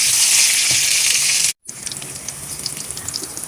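A hotdog frying in oil in a pan gives a loud, continuous sizzle and spatter that cuts out abruptly for an instant, then returns as quieter, scattered crackling and popping.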